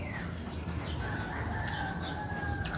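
A rooster crows in a long drawn-out call amid steady background clucking and farmyard noise, fairly distant, among Rhode Island Red and native chickens.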